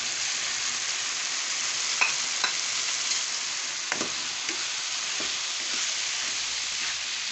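Spice chutney pastes go into softened tomatoes sizzling in a pan for a tinda (round gourd) curry, with a steady loud fry broken by a few light spoon scrapes and stirs, no voices.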